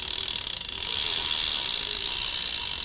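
The rear wheel of a BMX bike with a Harrow 9-tooth conversion hub gives a rapid, steady buzz of ratchet clicks as it freewheels, loud and close, continuing throughout without pause.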